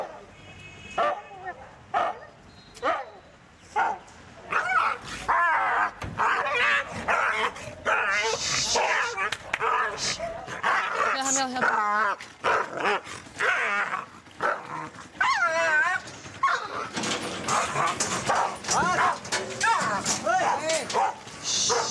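A dog showing signs of rabies barks, yelps and whimpers in agitated bursts, with growls mixed in, close and loud, while people talk at times in the background.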